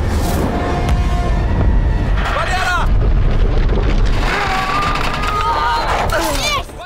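A volcanic eruption in a disaster thriller film, a dense continuous roar and rumble with booming layers and rising whistling tones, loud throughout, with voices mixed into the soundtrack.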